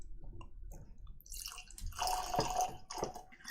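Whisky poured into a glass: a few quiet drips and clinks, then a short splashing pour with bubbling liquid, close and fairly soft.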